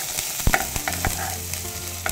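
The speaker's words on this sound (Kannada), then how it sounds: "ಹಾಗೆ ಬೆಳ್ಳುಳ್ಳಿಯನ್ನು ಹಾಕ್ತೇವೆ. ಜೊತೆಯಲ್ಲಿ ಸ್ವಲ್ಪ ಫ್ರೈ ಮಾಡ್ತೇವೆ" Ginger and garlic frying in hot oil in a pan for spinach palya, with a soft steady sizzle broken by sharp scraping stirs and clinks of a spatula close by.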